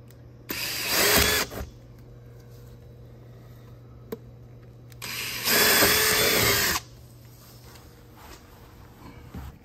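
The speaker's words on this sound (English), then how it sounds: "Now that the holes have been enlarged, drilled out, we're going to reattach the panel" A power drill enlarges holes in a synthetic spa skirting panel in two loud, close bursts of about a second each, separated by a quiet pause with faint background sounds.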